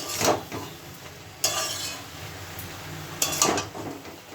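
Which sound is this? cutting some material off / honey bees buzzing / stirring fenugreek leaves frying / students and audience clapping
stirring fenugreek leaves frying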